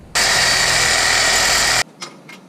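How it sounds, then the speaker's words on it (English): A Sawzall reciprocating saw cuts through the metal of a BMW F8X M2/M3/M4 differential bushing near the rear subframe, one loud continuous buzzing cut lasting under two seconds that stops abruptly, followed by a few faint metallic clinks. "I'm going to be very careful and cut off this metal with my sawzall without cutting the rear subframe"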